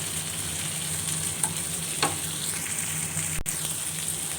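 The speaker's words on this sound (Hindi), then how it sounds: "टमाटरों की ज़बरदस्त सी अच्छी सी भुनाई हम कर लेंगे।" Tomatoes roast in a pan with a steady close sizzle under low hum, broken by a few soft stirring taps and one sharp click near the end.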